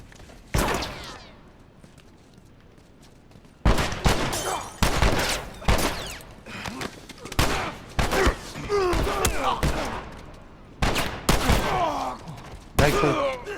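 Gunfire from the video game The Last of Us Remastered: repeated loud shots and bursts crack in irregular clusters, with thuds and effort sounds between them and quieter gaps.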